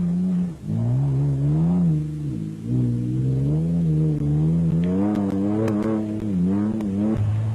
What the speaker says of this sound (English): Pete Harsbrook and Christo Bosch struggled along in their Castrol Toyota Land Cruiser